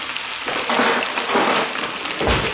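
Vegetables hit a hot pan for a chicken stir fry, giving a loud, steady sizzle with crackling bursts throughout, and a stirring scrape near the end.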